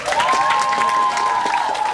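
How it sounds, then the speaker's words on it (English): Audience applause at a teen fandom convention, a steady wash of clapping filling two seconds, with a sustained whistle-like tone running through it and a few voices under the noise. "Give Gabe a round of applause, guys"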